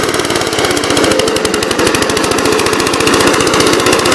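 The small engine of a 1969 Gravely C8 walk-behind garden tractor runs steadily up close, a rapid chugging rumble that holds an even pitch throughout.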